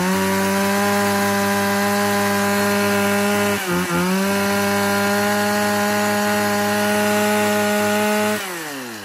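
A used Japanese chainsaw engine of the Makita, Echo or Shindaiwa kind, model Q10, runs steadily at high revs, loud and close, with a brief dip in pitch midway and a drop near the end.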